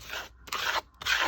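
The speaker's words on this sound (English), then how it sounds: "I put just a tiny bit on here and scrape it." Paint scraped across an art journal page in three short rasping strokes, each lasting a fraction of a second with brief pauses between, close and fairly quiet.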